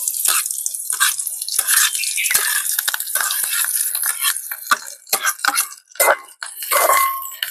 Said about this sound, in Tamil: இப்ப எண்ணெய் நல்லா கொதிச்சுட்டு நாங்கள் வெங்காயம், கருவேப்பிலை, பச்சை மிளகாய், பெருஞ்சீரகம் எல்லாத்தையும் போட்டு நல்ல வடிவா தாளிப்போம்